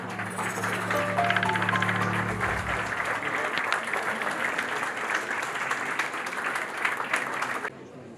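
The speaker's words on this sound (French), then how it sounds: "Tous vos applaudissements." Audience applause at a large gathering on Moroccan-Senegalese cooperation, dense sustained clapping across the whole stretch that cuts off near the end, with a sustained tone under the opening seconds.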